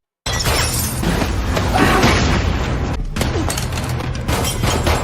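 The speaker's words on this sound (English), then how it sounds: "She then pulls out a hand grenade." A hand grenade detonates inside a bar, a loud, sustained booming blast with crashing and shattering debris filling the whole stretch, no voices over it.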